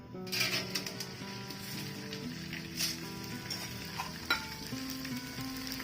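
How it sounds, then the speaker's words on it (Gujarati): Pieces of edible gum frying in hot ghee in a kadai give a steady, close sizzle with occasional stirring scrapes and a few louder crackles throughout. "ઘી ગરમ થઈ ગયું છે, હવે આપણે તેમાં ગુંદ તળી લઈએ"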